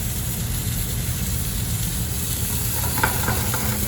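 Filet mignon sears in a hot pan with a loud, continuous sizzle close up, a dense crackling hiss that stays steady throughout with a faint clink near the end.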